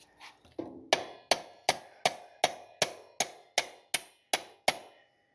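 About a dozen sharp hammer blows land in a steady rhythm, close and loud, each ringing briefly before the next strike, during a 1956 Chevy truck suspension install.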